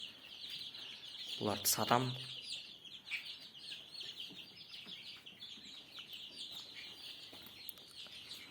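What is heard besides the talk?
turkey and chicken chicks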